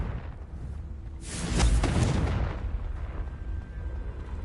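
Confringo explosive spell blast in the video game Hogwarts Legacy: a single heavy, booming burst that swells and rumbles for about a second before fading into a low steady background.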